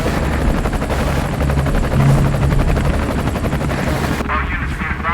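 Police helicopter in a sci-fi action thriller, a loud close rotor chop pulsing continuously with a dense engine roar, mixed with bursts of gunfire and a voice talking over it, cutting out sharply near the end.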